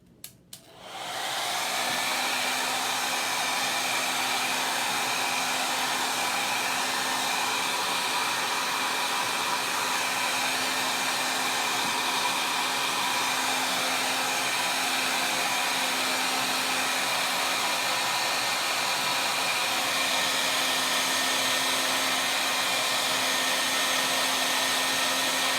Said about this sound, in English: You're gonna have to bear with me while I run my hair dryer for a couple of seconds